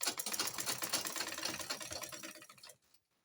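A sewing machine stitching a khimar cape, running in a steady rapid whir of needle strokes for almost three seconds before stopping.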